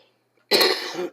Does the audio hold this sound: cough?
yes